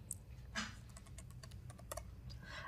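Computer keyboard typing while entering a command in a PowerShell command-line window, a quick run of light clicking keystrokes, close and soft, with no talk.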